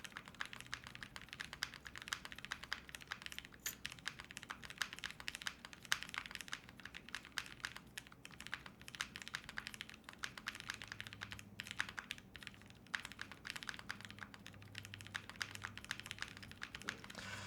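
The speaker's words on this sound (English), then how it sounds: "So the spacebar doesn't sound too bad. It's a little bit sharp." A custom TG67 mechanical keyboard fitted with a GMK spacebar is typed on in a steady, rapid stream of faint, close keystrokes, with no talking.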